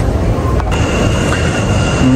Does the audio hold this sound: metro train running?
yes